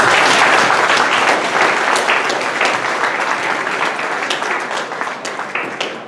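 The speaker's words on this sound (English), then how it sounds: "I want to give our admission reps a round of applause." Audience applauding admission representatives at a high school college credit plus information night, a dense, steady wash of clapping throughout that slowly thins toward the end.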